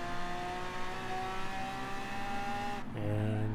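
An all-wheel-drive car on a test track in Forza Horizon 4 holds a steady high engine note, then the pitch drops sharply as it shifts or lifts before climbing again.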